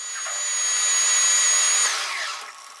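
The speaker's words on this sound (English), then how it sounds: "I need to drill a little deeper so that it goes through there a little cleaner." Power drill boring into a titanium knife part, a continuous high whine that holds steady, then slows and fades near the end, close and with no voices.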